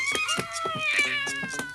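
A cat meows repeatedly in a quick run of short, close cries, with music playing underneath in a cartoon scene.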